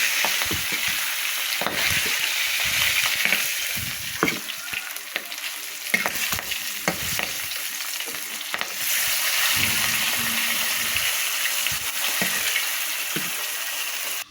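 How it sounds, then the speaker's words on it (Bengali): Magur catfish pieces fry in spattering hot oil, a close, steady crackling sizzle with frequent sharp pops and stirring clatter, the intensity swelling and easing over the stretch. "একইভাবে আমি বাকি মাছগুলোও ভেজে নেব মাগুর মাছটা খুব সাবধানে ভাজবেন"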